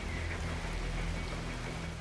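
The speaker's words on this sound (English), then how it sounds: "It's nice and rainy though all of a sudden to fit with the mood" Steady rain in the video game Metal Gear Rising: Revengeance, a soft continuous hiss of falling drops with a low hum beneath it, even and unbroken throughout, with no one talking.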